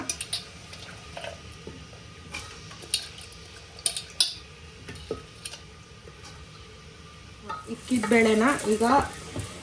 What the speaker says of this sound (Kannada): ಇಕ್ಕಿದ ಬೇಳೆನ ಸಾಟೆ ಮಾಡ್ಕೊಳ್ಳೋಣ